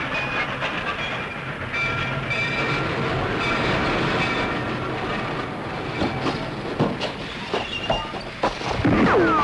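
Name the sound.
train passing in a commercial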